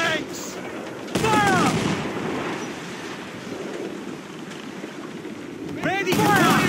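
Ship cannons fire in Assassin's Creed IV Black Flag amid a naval battle, with booming volleys and crackling blasts over a rain-like wash, while crew voices shout throughout.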